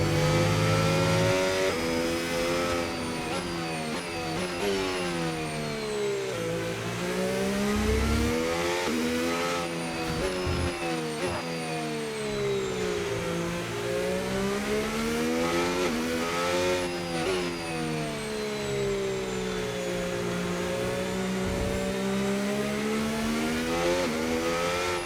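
A Williams Formula 1 car engine at the Hungarian Grand Prix in F1 25 drives a continuous high-pitched scream that rises and falls steadily through upshifts and downshifts, loud and unbroken throughout.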